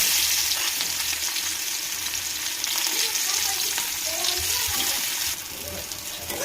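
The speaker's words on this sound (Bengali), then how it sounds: "এবার কুচিয়ে রাখা পেঁয়াজটা দিয়ে দিব।" Chopped onion frying in hot oil with broken dried chillies and cumin for a crab curry, a steady broadband sizzle that stays loud and continuous throughout, easing slightly near the end.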